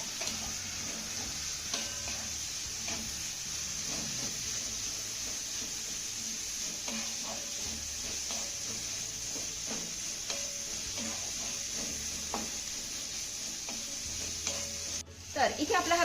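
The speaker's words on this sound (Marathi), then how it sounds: "आता हा कांदा ना चांगला मौसूद होईपर्यंत आपल्याला परतून घ्यायचा आहे" Thinly sliced onions fry in a pan with a continuous moderate sizzle, punctuated by repeated spatula scrapes and stirring clatter throughout, and a louder clank near the end.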